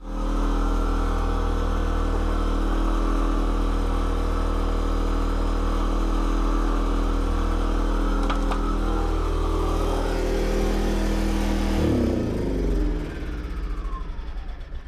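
A generator runs loud and steady during a battery and solar panel install, with a constant engine drone and strong low hum throughout, then its pitch shifts and it settles near the end.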